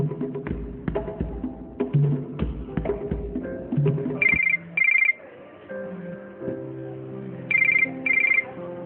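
A phone rings at home with a musical ringtone, a run of melodic tones followed by repeated bright double-pulse rings, loud and close.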